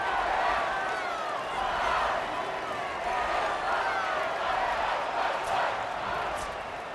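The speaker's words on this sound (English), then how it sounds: "Can they get an upset on the road with this crowd noise, with this environment?" A dense stadium crowd roars steadily throughout a College Football 27 video game broadcast, a loud, unbroken wash of cheering and murmur with no clear breaks or standout voices.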